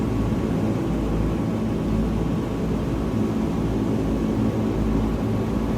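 Steady, loud drone of a propeller cargo plane engine in Microsoft Flight Simulator 2020, climbing at 130 knots over hills, a continuous broadband roar with no interruption or talk.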